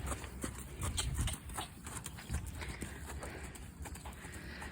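Horse hooves clip-clop on the ground at a summer camp horse show as horses walk and trot past a judge, the irregular moderately close footfalls set against faint outdoor background noise.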